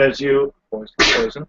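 A single sharp sneeze bursts out mid-conversation at a tabletop game session, a brief loud burst between stretches of close talking voices.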